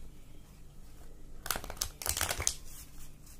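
Tarot cards being shuffled in a few quick bursts of crisp riffling and rustling, close and moderately loud over a quiet room hum, with no talking.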